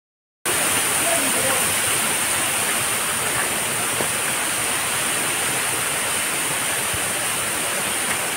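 Waterfall in a hilly forest at Mukhochhara and Nokata falls, a constant broad roar of rushing water that starts suddenly and holds steady and fairly loud throughout.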